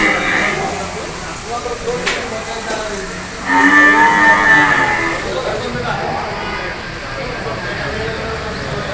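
A buffalo gives a couple of deep, drawn-out lows amid a noisy outdoor crowd, with people talking nearby, at the Erragadda buffalo market in Hyderabad on a rainy Sunday.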